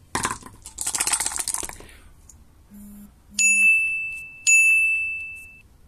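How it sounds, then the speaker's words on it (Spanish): A phone notification chime rings twice in quick succession, clear bright dings, after a burst of shuffling noise and a couple of short low beeps during an online tabletop dungeon game session. "no tenía las notificaciones desactivadas"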